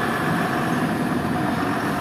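A six-piston Euro 2 truck engine idles steadily in Nepal, a continuous low, even rumble with no speech over it.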